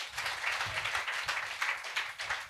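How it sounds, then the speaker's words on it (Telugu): A church congregation claps loudly together, a dense, continuous patter of many hands sustained at an even level for a couple of seconds without talk. "కొట్టండి గట్టిగా చప్పట్లు."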